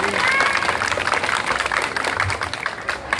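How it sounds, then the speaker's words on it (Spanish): A crowd at a Zaachila community gathering applauds a young girl during a carrizo award, with steady dense clapping throughout and a voice talking over it. "Fuerte los aplausos para esta pequeña."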